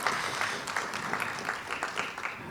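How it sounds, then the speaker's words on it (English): Scattered applause from a conference audience in a hall, a moderate wash of clapping hands lasting a few seconds at a fairly low level. "Round of applause, ladies and gentlemen."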